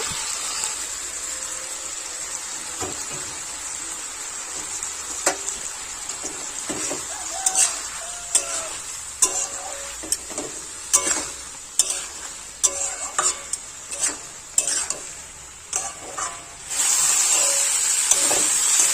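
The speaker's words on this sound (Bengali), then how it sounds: "ওই এক থেকে দু মিনিট ভালোভাবে নাড়াচাড়া করে নেব" Potatoes and red amaranth stems being stirred in a pan, a steady sizzle broken by a quickening run of spatula scrapes and clatters that grow louder and denser, ending in a loud continuous hiss.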